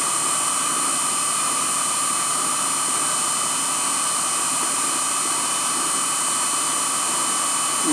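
An Emco F1 CNC milling machine reams 7075 T6 aluminium on a control arm assembly, giving a loud, steady high-pitched machining whine that stays constant throughout.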